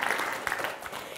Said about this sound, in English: let's give a clap for our current volunteers that are helping